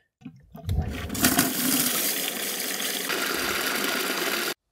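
A pool sand filter pump backwashes water. A few knocks give way to a loud, steady rush of flowing water that runs at close range until it cuts off abruptly.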